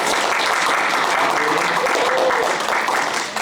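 A conference audience gives a short burst of applause, dense steady clapping that fades near the end.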